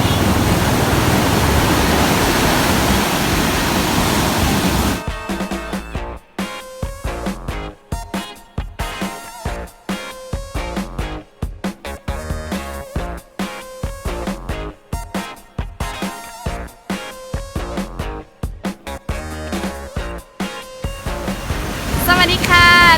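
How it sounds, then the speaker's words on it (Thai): High ocean waves at Patong Beach, Phuket, roar as a loud, steady surf wash for the first few seconds before choppy music takes over. "คลื่นสูงมากเลย"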